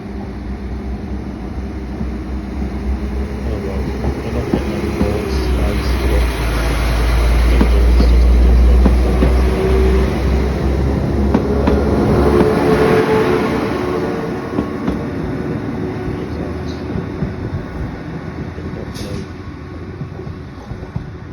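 A passenger train rumbles along the rails nearby, a broad steady roar that swells to its loudest midway and then fades as it passes, with wheel clatter and no talk.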